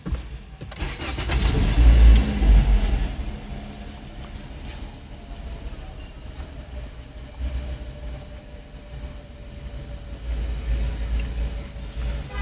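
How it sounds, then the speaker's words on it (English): A 2016 Toyota Corolla engine cranks and catches with a short loud burst, then settles into a quiet, steady idle. "let's see what will happen after starting the car."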